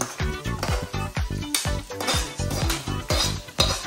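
Chicken fries in a kadai for butter chicken, with a ladle repeatedly scraping and clattering against the pan under a loud continuous sizzle.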